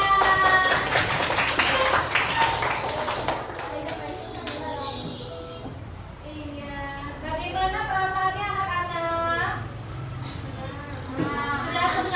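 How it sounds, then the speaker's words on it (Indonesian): Schoolchildren in a classroom clap briefly at the start, a quick flurry of hands, then their voices and chatter take over and carry on at moderate loudness. "Beri tepuk tangan untuk kita semua."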